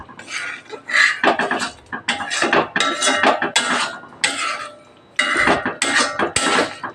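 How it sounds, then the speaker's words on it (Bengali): A spoon scrapes and knocks against a pan while veg shahi paneer gravy cooks down with sour yogurt over low heat, in repeated close rhythmic strokes with short pauses. "টক দই দিয়ে একটু কষিয়ে নিচ্ছি আরও ভালো করে।"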